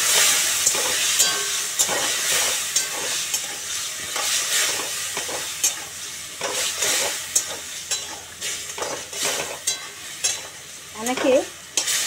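A spice paste for a ridge gourd curry fries in a pan after a splash of water, hissing and bubbling steadily while a utensil scrapes and stirs it in repeated strokes, close by and loud, with no talk.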